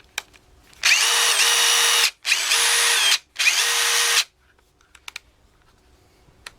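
A Dewalt DCF887 impact driver runs in three bursts of roughly a second and a half each, separated by short pauses. Each burst is loud and close, with a steady high whine over a rapid hammering rattle, followed by faint clicks and quiet.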